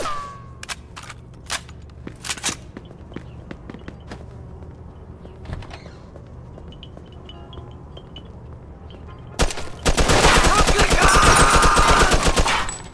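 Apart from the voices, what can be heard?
gunfire in the video game Mafia 2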